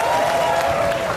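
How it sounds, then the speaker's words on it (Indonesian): Studio audience clapping on an Indonesian talk show, a brief loud burst of applause with a tonal hum running through it and some voices mixed in. "Tepuk tangan yang meriah."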